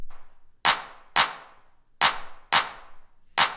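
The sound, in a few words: processed percussion clap groove without added snare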